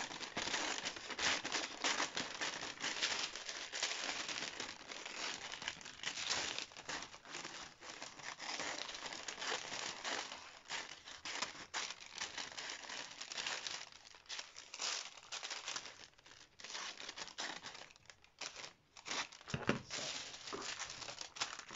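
Dress fabric being cut with scissors, a steady stream of close crisp snipping and rustling crinkles, faint and continuous without speech.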